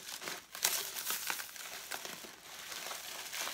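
Plastic wrapping on a cosmetics order crinkles and rustles as the package is opened, making a steady close-up crackle with a few sharper crunches and no talking.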